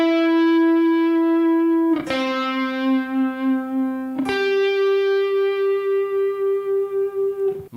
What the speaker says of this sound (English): Early on, I mainly focused on not pulling the strings when applying vibrato.